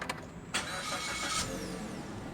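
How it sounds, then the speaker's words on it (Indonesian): A Suzuki S-Cross with keyless entry is started by its start-stop button: a short click, then the engine cranks and catches, settling into a steady near idle. "Mobil langsung menyala."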